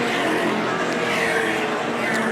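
Racing cars at a Goodwood Members' Meeting race past on the start-finish straight, a loud, dense wall of engine roar that holds steady throughout, with no clear breaks between cars.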